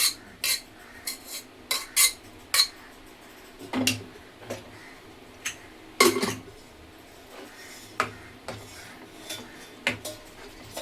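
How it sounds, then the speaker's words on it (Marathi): Vegetables for pav bhaji are mashed in a metal pan with a masher, a series of sharp, irregular clanks and scrapes close by, spaced about half a second to a second apart, with no talk. "हे मॅशरने चांगल्या भाज्या वगैरे ना मॅश करून घेते"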